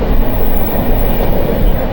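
The Tirumala Express, train 18522 from Guntakal to Visakhapatnam, runs past Nellore South station without stopping, a loud continuous rumble of wheels and carriages filling the whole stretch, with no voices.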